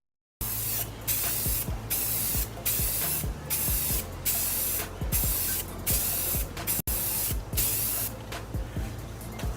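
Rust-Oleum gloss white spray paint hissing from a can in repeated short bursts, close and steady, with brief pauses between passes.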